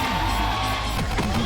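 A big crowd in Chase Field baseball stadium at a drone race roars and cheers in a dense, steady wash of distant voices with a few whoops rising above it.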